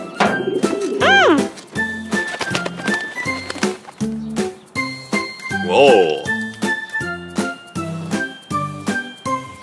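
Cartoon pigeon cooing sounds, warbling and rising, appear twice over a steady rhythmic cartoon music bed with jingly accents.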